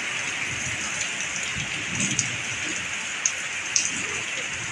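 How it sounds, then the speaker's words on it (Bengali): Heavy rain pours during a thunderstorm in Durgapur, a dense, steady hiss punctuated by a few sharper splashing drop hits, with no one talking. "ফাইনালি আমাদের দুর্গাপুরে বৃষ্টি শুরু হয়ে গেছে।"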